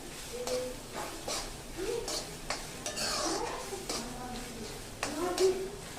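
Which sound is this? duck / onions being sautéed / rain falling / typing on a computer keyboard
onions being sautéed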